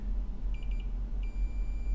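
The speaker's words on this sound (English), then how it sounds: "should have a beep there" A multimeter continuity test on a CPU repair bench gives short, faint electronic beeps: a quick run of four pips, then one longer steady tone, over a low hum with no talking.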